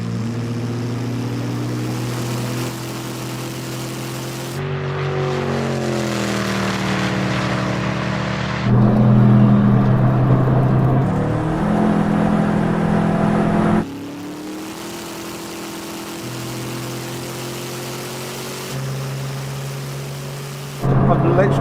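Koenigsegg Jesko and Regera hypercars racing side by side at full throttle, engines droning loud and steady with rising and shifting harmonic tones as gears change, plus wind roar throughout.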